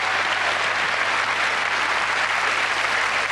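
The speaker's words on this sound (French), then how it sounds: "Vous allez l'applaudir bien fort dans ce numéro de magie." An audience applauds a magic act at a French stage show, a dense, even wash of clapping that holds at a steady level throughout, with a faint low hum beneath it.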